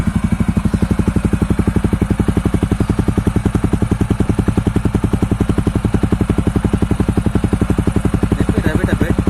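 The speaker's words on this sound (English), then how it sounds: "we have fired up the bike, and let's hear the exhaust note" A TVS Ronin 225 motorcycle idling, its exhaust note a steady, rapid, even thump that carries on close and loud for the whole stretch.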